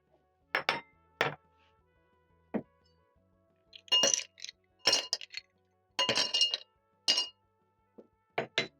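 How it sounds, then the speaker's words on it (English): Ice cubes clink into a glass while a pina colada smoothie is being served, giving sharp bright clinks in small clusters, some single and some several at a time, close and fairly loud against a quiet background. "I'm going to add in some ice cubes and transfer in my smoothie."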